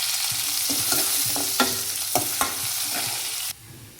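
Curry leaves and golden onions sautéing in a pan, a steady close sizzle with repeated scraping stirs of the spoon before the frying noise drops away near the end.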